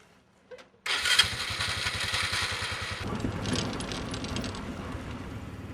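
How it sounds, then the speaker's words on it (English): A motorbike modified into a motor chair bike for a paraplegic rider starts up close by, then its engine settles into a steady, rhythmic chugging idle, with no voices. "he modified his motorbike to a motor chair bike."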